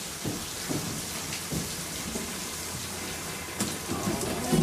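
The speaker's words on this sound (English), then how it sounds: "It's raining." Steady rain hisses across the whole stretch at moderate level, with occasional soft thuds and low rumbles under the constant wash.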